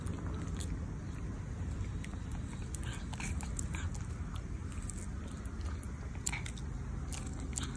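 A Chihuahua and a Yorkie chew freshly made jerky close up, with wet crunching and snapping bites in an irregular rhythm over a low room hum.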